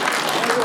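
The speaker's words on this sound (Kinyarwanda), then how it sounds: "bamukomera amashyi rwose kandi amashyi menshi cyane rwose" Wedding guests applaud together, a dense wash of clapping that is close and loud for a brief moment, with voices mixed underneath.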